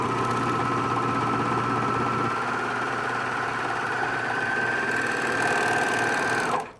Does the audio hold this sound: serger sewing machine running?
yes